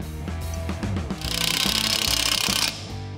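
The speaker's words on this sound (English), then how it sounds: "drop in the bolt, and cinch it down." A power tool cinches a 7/16 inch bolt into a bracket on a Chevelle chassis frame, a short rough burst over steady tonal background music.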